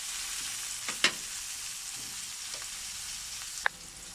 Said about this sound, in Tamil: வெங்காயம் நல்லா பொன்னிறமாக வறு வறுத்துக்கலாம்